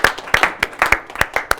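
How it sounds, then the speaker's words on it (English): Short, loud burst of clapping during an orchestra rehearsal, a dozen or so distinct claps from only a few pairs of hands in an uneven rhythm, close and brief. "applause is necessary"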